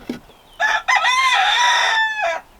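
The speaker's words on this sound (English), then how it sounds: "my rooster Roger is in full rampage mode" A rooster crows loudly and close by, one long drawn-out cock-a-doodle-doo with a brief cluck just before it.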